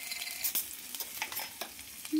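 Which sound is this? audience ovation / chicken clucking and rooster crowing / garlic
garlic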